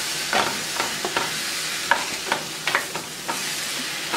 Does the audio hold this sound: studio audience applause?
no